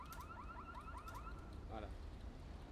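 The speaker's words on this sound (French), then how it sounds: "C'est quel véhicule qui sonne?" Vehicle car alarm in the GTA RP video game during a night gendarmerie patrol, a rapid warbling electronic whoop repeating for a couple of seconds, fairly faint under background noise and a voice.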